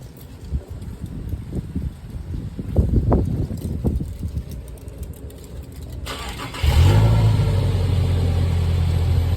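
A used vehicle's engine cranks after some rustling and handling noise, then catches and settles into a steady, fairly loud running rumble close by.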